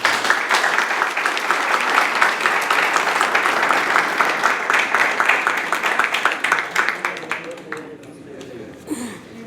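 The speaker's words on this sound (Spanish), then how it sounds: "un fuerte aplauso" A university lecture audience gives a strong round of applause for a guest sociologist, dense and steady many-handed clapping that holds for most of its length before thinning out into scattered claps.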